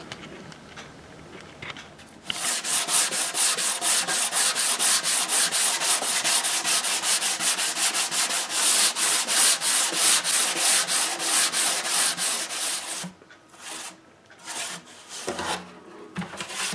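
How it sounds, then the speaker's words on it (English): Wooden acoustic dreadnought guitar body being sanded and scraped by hand, fast rhythmic rasping strokes close up, continuous for about ten seconds, with quieter scrapes and pauses before and after. "All of the surfaces have been scraped and sanded smooth"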